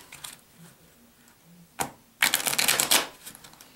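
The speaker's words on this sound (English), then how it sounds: "Even do a little shuffle." Cards riffle in a quick fluttering burst after a single snap, a short close-up shuffle of a deck in an otherwise quiet room during a card trick.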